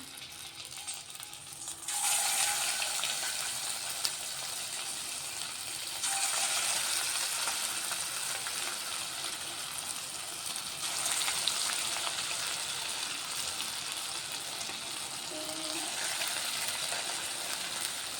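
Garelu, lentil vadas, sizzle in hot oil, a steady crackling fry that swells louder as fresh batter drops in around every few seconds, continuing without speech.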